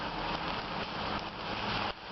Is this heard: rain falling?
yes